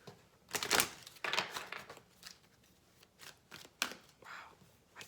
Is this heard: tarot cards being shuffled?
yes